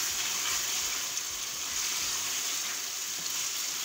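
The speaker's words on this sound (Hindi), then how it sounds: "इसकी हाई फ्लेम में इसको हम भून लेंगे" Prawn and onion curry with green chillies and coriander frying in a pan on high flame, giving a loud, steady, hissing sizzle throughout with small faint bubbling pops underneath.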